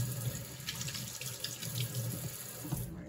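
Kitchen tap water runs steadily into a sink as someone washes their hands before cooking a roast, a continuous close splashing hiss with no talk.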